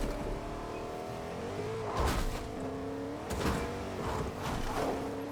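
A car driven in the Fortnite video game: a steady engine drone with shifting tones and a few louder surges as it accelerates and bumps along, with no talking.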